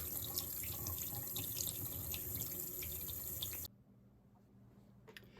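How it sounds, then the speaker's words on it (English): Tap water runs steadily over a die-cast Matchbox King Size K13 cement truck to rinse off paint stripper, a close sink splash that stops abruptly partway through, leaving quiet room tone. "We'll run it under the water and get the rest of that off."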